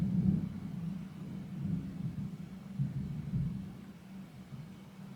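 Deep thunder rumbles during a storm, low and drawn out in several swells, moderately loud with no voices.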